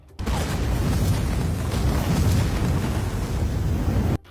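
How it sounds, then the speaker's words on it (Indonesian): A car bomb explodes in a dramatized story, a loud sustained roaring blast with heavy low rumble that holds steady for about four seconds before cutting off abruptly; no voices are heard. "Bom itu ternyata aktif dan akhirnya mobilnya meledak"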